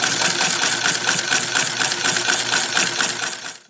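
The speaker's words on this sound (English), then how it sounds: "So let's replace this and sew it." A sewing machine stitches a seam in barstool upholstery on a 1965 barstool, a fast steady rattling chatter running continuously close up before stopping abruptly.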